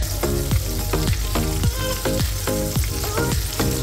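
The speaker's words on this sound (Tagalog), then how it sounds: "yung ating calamaris para i-prito siya" Calamari sizzles and crackles steadily in a hot frying pan, a loud, close, continuous frying hiss with regular popping bursts and no talking.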